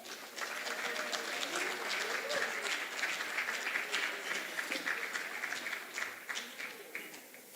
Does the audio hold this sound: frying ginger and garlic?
no